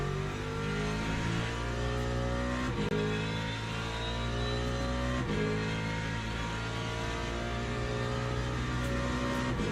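A Ford race car in the video game Le Mans Ultimate drones with a steady, loud engine note that rises and shifts through gears, with no talk.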